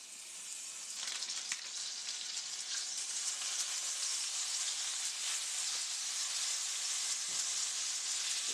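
A tablespoon of butter sizzling in hot olive oil in a pot over medium-high heat, giving a continuous airy hiss that swells after the first second and holds steady, close and moderately quiet, with a few faint knocks.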